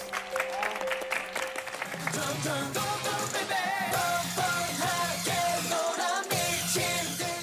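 Applause and cheering from a crowd at a K-pop music show, sustained and loud over music playing throughout, with voices mixed in.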